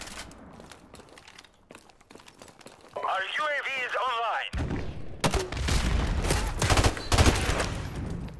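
Desert Eagle pistol fire in the video game Call of Duty: Modern Warfare Remastered, a rapid run of loud shots in the second half, preceded by quieter game sounds and a brief tonal effect.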